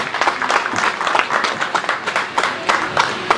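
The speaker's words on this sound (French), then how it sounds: "Vous l'applaudissez encore une fois." A crowd applauds steadily, many hands clapping together in a dense, continuous patter that holds throughout.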